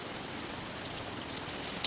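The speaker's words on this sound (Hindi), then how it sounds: "बारिश बहुत ज़ोरों की हो रही है" Heavy rain pours down steadily, a dense, even hiss of drops striking surfaces with occasional sharper splats, no talking.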